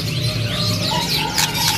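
A spotted magpie robin wearing a leg ring chirps steadily in a cage at a bird sale, with quick curling whistled notes repeating close by over a constant low background hum.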